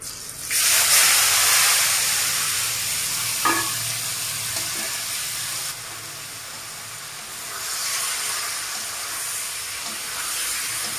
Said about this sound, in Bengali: এটাকে এখন আমি ওতে দিয়ে ভালো করে ফ্রাই করে নেব